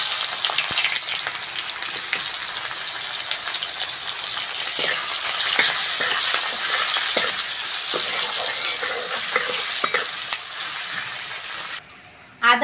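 Onion sizzles in hot oil with panch phoron for a fish curry, a steady, loud frying hiss with scattered crackles and stirring scrapes, cut off abruptly near the end.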